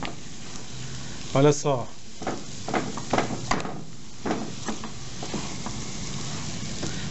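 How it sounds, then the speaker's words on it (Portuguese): Thickened cornmeal mixture for broinhas de fubá being stirred in a pan until it pulls from the bottom, soft scraping and sticky sizzling strokes near the mic, with a brief voice speaking over it. "Agora a gente mexe até desgrudar do fundo da panela."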